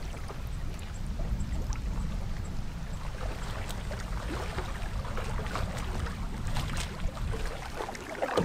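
A canoe is paddled on Lake Nipigon, a wilderness lake partly burnt by forest fire, with a steady wash of water and wind throughout and soft splashy strokes now and then.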